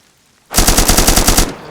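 A loud, close burst of automatic gunfire in the survival shooter DayZ, about a dozen rapid shots in an even rhythm lasting roughly a second, with no talking.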